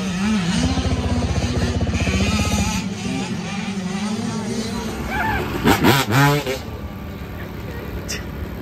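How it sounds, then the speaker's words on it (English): A dirt bike engine at a muddy motocross track runs with a loud, steady buzzing drone for the first few seconds, then drops to a lower idle with a couple of brief revs near the end, while people talk nearby. "Testing out my bike."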